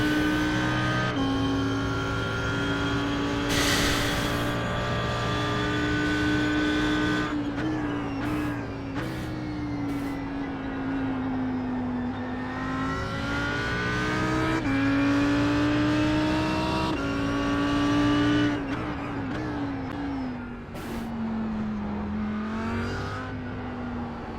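Audi R8 GT3 race car lapping Silverstone in iRacing, a loud continuous engine roar that climbs through the gears and drops on downshifts, with repeated sharp shift cuts and no talk.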